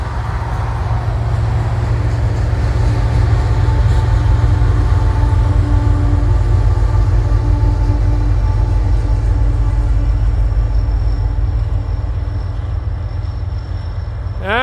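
A long coal freight train in Wyoming's Powder River Basin rumbles past nearby, a loud continuous low roar of rolling cars and wheels with a faint squeal toward the end.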